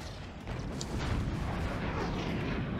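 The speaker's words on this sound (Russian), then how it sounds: "Я сейчас выстрелю с этой пушки." Cannon fire in the video game Forts, a deep rumbling boom that swells after half a second and sustains as a low, heavy roar, fairly faint overall.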